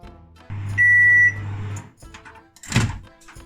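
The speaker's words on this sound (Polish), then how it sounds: "Teraz wrzucamy to do mikrofalówki na 3 minuty na 800 W na maksymalną moc." A microwave oven heating keto bread rolls for three minutes at 800 W. It hums, gives a loud steady electronic beep, and then a solid thunk comes from the door.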